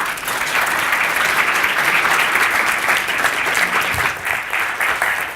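At a talk on women writing science, an audience claps in a full, sustained round after the speaker finishes, many hands blending into a steady roar with no voices over it.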